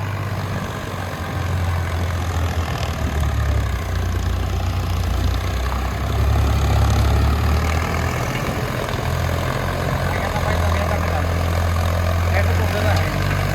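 A tractor with twelve quintals of ballast weights sits idling as it warms up, giving off a steady, loud, low engine rumble that holds on without a break from start to finish.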